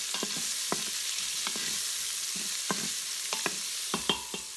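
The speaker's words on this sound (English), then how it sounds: "I'm going to use one of our teak wood spoons here to just kind of give it a little stir." Onions fry in a quick cooker with a constant hiss, while a teak wood spoon stirs them in a scattered series of sharp taps and scrapes against the pot.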